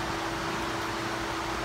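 Electric fans run in a welding workshop, giving a steady, close whooshing airflow with a constant hum and no other sounds.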